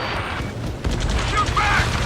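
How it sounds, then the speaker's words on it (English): Continuous battle noise from the Ace Combat 7 flight game's rescue mission, a dense roar of distant gunfire and explosions with a heavy thump near the start, under urgent radio chatter. "Taking fire! We're pinned down!"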